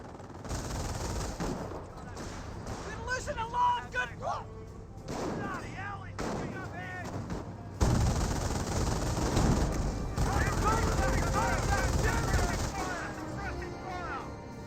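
Rifle gunfire crackles through a Company of Heroes battle, repeated sharp shots in uneven bursts, some near and loud, others farther off, mixed with wider battle noise and a commentator talking over it.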